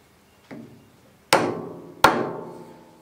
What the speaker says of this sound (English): light taps. I use a homemade wooden mallet.